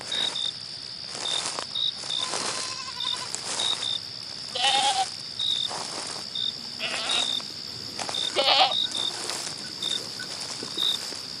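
Goats bleating in a barn in a radio drama, a few short bleats over a constant chirping of crickets and a rhythmic high tone, with soft rustling in between.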